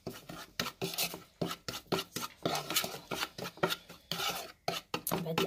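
Canned tuna being mixed with other ingredients in a bowl, a close run of rhythmic scraping and clattering strokes of a utensil against the dish, with no one talking.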